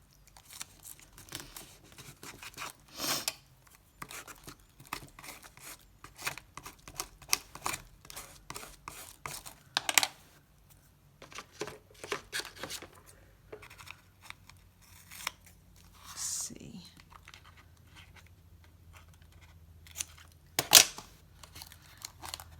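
Scissors trim jagged cardboard for an altered book box, giving many sharp, irregular snips over a quiet background. A louder cut stands out now and then.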